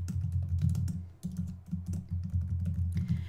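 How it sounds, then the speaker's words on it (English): Computer keyboard typing, a steady run of quick close key clicks with a short pause around the middle, no voices over it. "You could just start typing in here"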